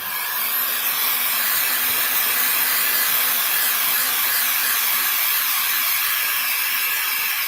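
An electric dryer blows hot air over a decoupage varnish craft project, a loud, steady airy whoosh and hiss held close and unbroken throughout, with no talking.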